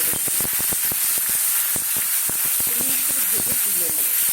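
Shrimp frying in a pan of hot oil give a loud, steady sizzle with constant crackling pops throughout, and a voice murmurs faintly in the background.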